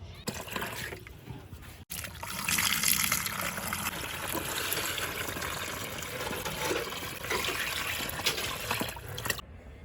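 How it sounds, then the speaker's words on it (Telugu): Water gushes steadily into a tub for repotting a lotus plant on a terrace garden, a continuous close splashing pour lasting several seconds after a brief pause. "ఇట్లా టబ్బు నిండా వాటర్ అయితే వేయాలి"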